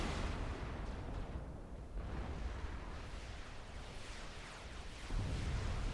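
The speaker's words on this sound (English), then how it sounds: "that bombing run wiping out a lot of Big Max's units" Bombing run in the Supreme Commander 2 strategy game, rumbling explosions rolling one into the next, with a heavier low boom near the end, at moderate loudness and with no voices.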